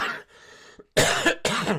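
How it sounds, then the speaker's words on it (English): A person coughs hard several times in quick bursts, harsh and raspy, very close to the microphone, after running in cold weather. "I'm coughing and hacking on the microphone to you guys"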